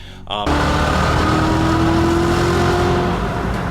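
Corvette Z06 V8 with a Corsa X-pipe and Borla muffler revs up and holds a loud, steady rumbling drone for several seconds, close by and without speech.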